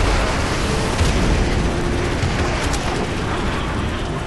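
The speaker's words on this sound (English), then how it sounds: "Hopefully those two airstrikes just wrecked them. By the sounds of it, they did." Airstrike explosions in Modern Warfare Remastered roll as a loud, continuous barrage of deep booms and rumbling blasts, close and heavy, with no speech over them.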